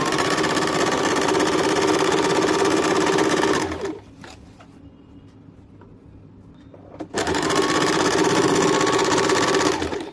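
An electric sewing machine stitches fabric for a semi-salwar in loud, rapid continuous runs, stopping for about three seconds of near quiet before the whirring needle starts again and runs to the end.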